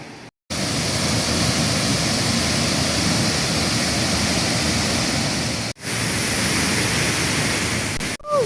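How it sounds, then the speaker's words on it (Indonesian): Sengkuang waterfall at Kebawetan in Kepahiang, near a tea plantation, roars as a steady, loud broadband rush of falling water that runs almost unbroken, with a couple of brief gaps in the recording. "Air terjun Sengkuang, Kepahyang."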